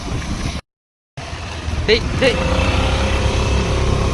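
A small engine drones steadily while riding, with wind and road noise; the sound cuts out briefly near the start and then continues.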